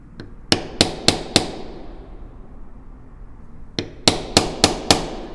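A mallet strikes a metal stamp into thin leather in two quick bursts of four and five sharp knocks, crisp and close with a quiet pause between.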